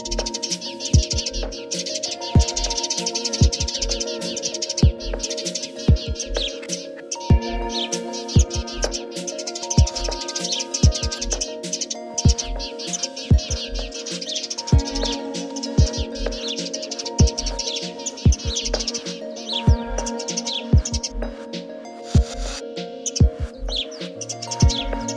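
A recorded sparrow call played as a lure for bird trapping: loud, close, continuous streams of rapid, repeated high chirps and tweets with a steady rhythm and no talking.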